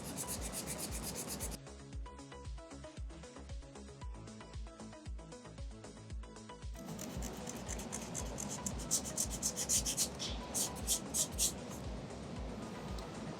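Hand sanding on Terreon solid surface material makes continuous close rubbing and scratching strokes with a rhythmic back-and-forth texture, growing louder and brisker toward the end.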